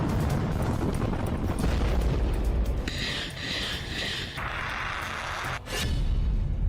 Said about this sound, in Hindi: रूस ने मिसाइल हमले काला सागर में मौजूद युद्धपोत से किए हैं।